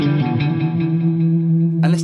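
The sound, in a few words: Univibe effect on Boss Katana guitar amp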